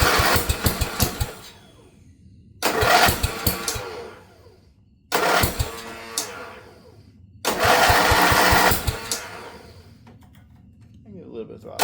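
An auction-find Wizard lawn mower engine that had not been running, heard in four loud, close bursts of rough sputtering engine noise, each fading out before the next attempt.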